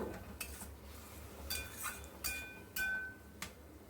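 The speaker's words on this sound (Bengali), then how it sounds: "দিয়ে আবার ভালোভাবে এগুলোকে মিশিয়ে দেবো" Mushroom and carrot mixture with tomato sauce being stirred in a pan, with faint, quiet metallic clinks and scrapes of the utensil striking the pan at irregular intervals.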